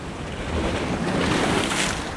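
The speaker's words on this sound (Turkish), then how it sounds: "Dalgalarımız müthiş." Sea waves surge and wash around a small fishing boat in a cove, with steady wind buffeting the microphone; a continuous, fairly loud roar with no voices.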